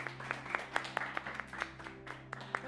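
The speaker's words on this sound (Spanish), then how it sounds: "Gracias. Un aplauso." A small classroom group claps after a student's presentation, a sparse, uneven patter of individual hand claps, fairly quiet, over a steady low background hum.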